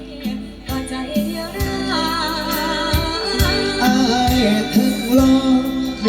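Music with a punchy beat and strong bass plays steadily through a car audio system, unprocessed straight from the head unit, drums and melody clear and fairly loud, with no voices over it.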